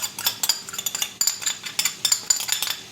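A metal utensil stirs in a cooking pan for a chicken liver dish, giving rapid, bright scraping clinks in an irregular rhythm. The sounds are close and clear, with no talking.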